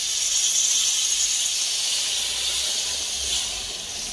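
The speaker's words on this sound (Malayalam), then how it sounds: "ആവശ്യത്തിന് വെള്ളം ഒഴിക്കുക. ഞാൻ ചൂടുവെള്ളമാണ് ഉപയോഗിക്കുന്നത്." Hot water poured into a pot of half a kilo of mutton masala cooking for a banana leaf mutton dum biryani makes a loud, steady hiss of steam that lasts throughout, with no talking.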